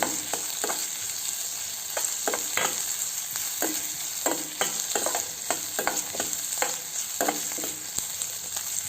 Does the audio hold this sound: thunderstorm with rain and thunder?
no